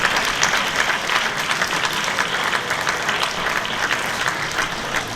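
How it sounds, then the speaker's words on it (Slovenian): Loud, lively applause from an audience at an art exhibition talk in Kranju, many hands clapping close and continuously for about five seconds, with no voices over it. "Še en aplavz."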